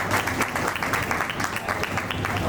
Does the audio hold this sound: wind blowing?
no